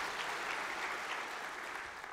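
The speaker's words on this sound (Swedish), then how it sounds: "Ja, ni får applådera." An audience at a trade union conference introduction applauds, a dense, even wash of clapping that holds steady throughout and fades slightly at the end.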